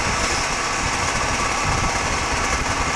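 A two-stroke 125 motorcycle engine drones steadily under a constant roar of wind, with no break or change in pitch throughout.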